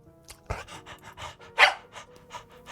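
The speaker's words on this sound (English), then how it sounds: "the dog whimpered, lowered its ears, sniffed me out, and then started wagging its tail" Small stray dog in the video game Tiny Bunny, quick rhythmic panting breaths with a couple of sharper whimpering yelps, close and alone.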